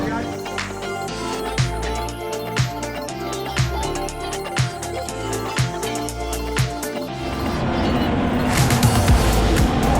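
Formula 1 cars, each around 1000 horsepower, scream past a trackside spot at sunset, repeated high engine whines rising and falling one after another, then a louder, denser roar building near the end.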